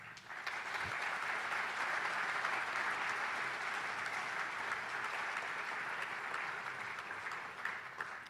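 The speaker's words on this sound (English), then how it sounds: "I saw the legislators were clapping" Legislators applaud steadily through a county address, a dense, even wash of clapping that holds for the whole stretch at a moderate distance before easing slightly at the end.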